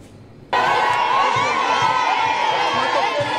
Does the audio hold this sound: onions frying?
no